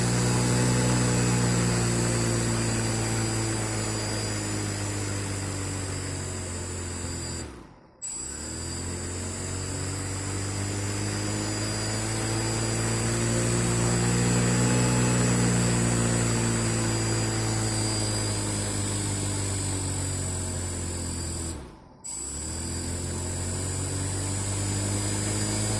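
Small electric motor spinning propeller blades for an RPM sensor demonstration, a steady loud drone with layered harmonic whine, briefly cutting out twice before resuming.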